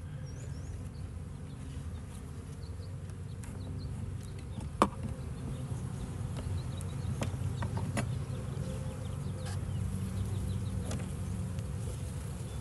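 A steady, dense buzzing of many honeybees at an open hive fills the air continuously, with a few individual bees droning closer past over the low hum.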